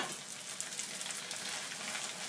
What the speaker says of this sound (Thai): น้ำซอสที่แย่ผสมไว้เรียบร้อยนะคะลงไปผัดให้เข้ากัน